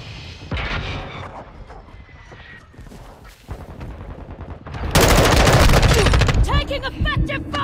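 Gunfire in the video game Call of Duty: Modern Warfare II, with scattered shots and booms early on building into a dense, loud burst of sustained firing near the end, alongside voices and game chatter.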